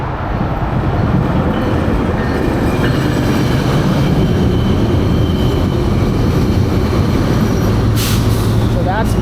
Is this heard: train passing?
yes